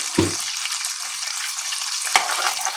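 Fenugreek seeds tipped into hot ghee set off a sharp sizzle that settles into a steady, close frying hiss, with a brief clatter of a spoon stirring the pan near the end.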